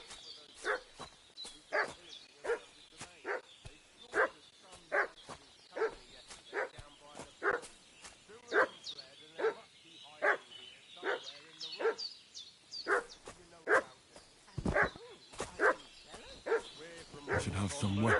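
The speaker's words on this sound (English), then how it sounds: "What's that dog making such a fuss about?" A dog barking in the video game Kingdom Come: Deliverance 2, with a long run of loud, evenly spaced barks at a steady rhythm, fairly close, continuing for the whole stretch.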